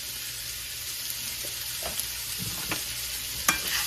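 Seasoned crab rangoon filling tossed in a hot pan, a steady close sizzle broken by a few soft scrapes and stirring knocks, with no talking.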